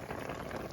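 Water boiling in a pot for noodles bubbles and simmers continuously, a soft, close gurgling hiss over a very short moment.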